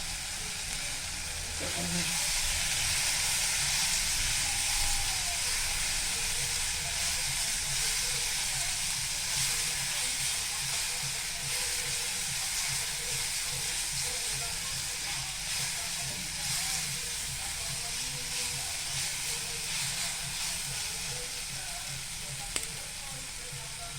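Curry leaves sizzle in hot oil in a pan while pav upma is being cooked, giving a loud, steady, continuous frying hiss throughout with no talking.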